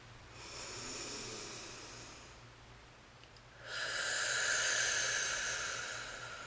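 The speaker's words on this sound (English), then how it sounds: "Three more loud, audible breaths." Loud, deliberate breaths drawn in through the nose and pushed out during a calming exercise for anxiety, heard as two long broadband breath sounds with a brief lull between them, close to the microphone, with no talking.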